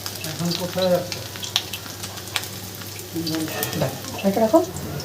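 Semolina snack frying in a pan, a steady crackling sizzle with occasional stirring scrapes, while someone talks over it at close range in intermittent bursts.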